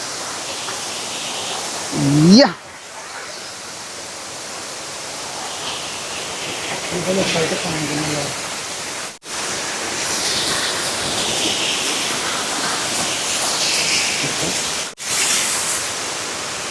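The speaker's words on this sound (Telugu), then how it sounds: "మా ఊరి వాటర్ ఫాల్స్" Steady roar of falling water fills the whole stretch, with brief bursts of nearby voices and a couple of sharp handling bumps.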